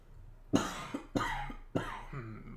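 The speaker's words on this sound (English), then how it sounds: "I'm going to start coughing." One person coughs three times in close succession, each cough a sharp loud burst with a short rough tail, heard nearby in a quiet indoor space.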